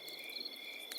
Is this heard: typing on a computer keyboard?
no